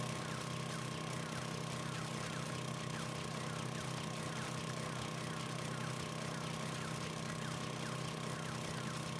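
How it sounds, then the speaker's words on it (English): Steady mechanical drone of an auger drilling in the survival video game 7 Days to Die (Alpha 16), a continuous even whir with a constant hum running throughout, moderately loud and with no talk. "Now the auger feels right."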